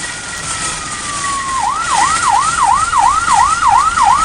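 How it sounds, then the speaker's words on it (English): Police sirens in the video game Thirty Flights of Loving: a steady tone glides down, then a wailing siren starts rising and falling in quick, regular cycles. It is loud, close and continuous, with no talk over it. "Police sirens!"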